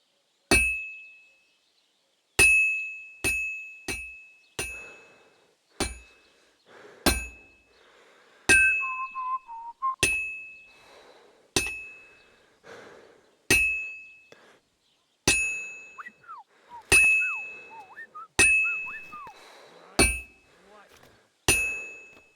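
Henry in Kingdom Come: Deliverance 2 strikes a piece of metal with a hammer, each sharp, ringing clang decaying before the next in a stop-start rhythm, while he whistles short tunes between blows.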